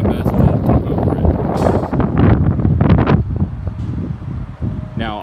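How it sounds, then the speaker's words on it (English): Gusty wind buffeting the microphone with low rumbling roars that rise and fall, loud and close throughout. "It's a little windy, so you might hear the wind."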